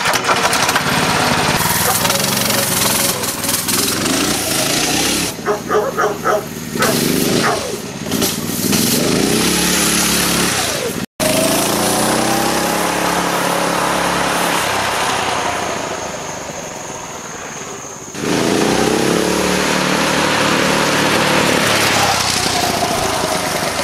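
A Predator engine swapped into a cheap go kart, running on nitro, roars loud and close with a rough buzzing note, briefly cutting out midway then revving back up steadily.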